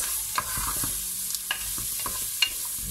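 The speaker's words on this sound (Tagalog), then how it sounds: "Igisa lang natin siya" Onion and garlic sautéing in a pan for chicken tinola, a steady bright sizzle with scattered scraping stirs and light clicks of a utensil, close and continuous with no talking.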